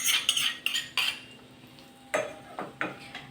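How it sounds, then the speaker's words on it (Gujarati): A spoon stirs spices and hot oil in a pan for gunda sambharo, making a few sharp metallic clinks and scrapes in short bursts with quiet gaps between them. "અને હવે આપણે એને હલાવી લેવાનું સરસ મજાનું"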